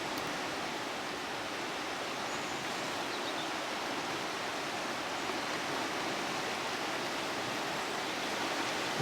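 A swollen river carrying a huge amount of water after Storm Babet, rushing in a steady, broad, unbroken roar that holds even throughout with no voices.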